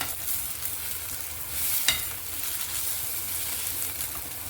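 Sliced onions frying in a pan for onion chutney, a continuous close sizzle with soft stirring scrapes and one sharper clink near the middle, no voices.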